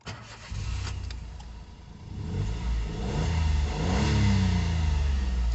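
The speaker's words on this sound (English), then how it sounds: "just start the engine" A Toyota Aygo's small engine cranks and catches, idles briefly, then revs up in rising surges, close and loud with no talking.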